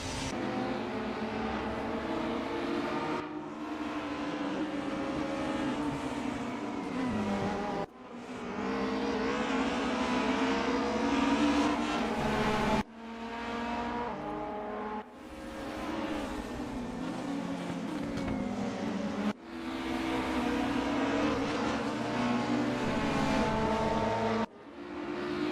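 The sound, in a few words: race cars racing side by side in a sim racing game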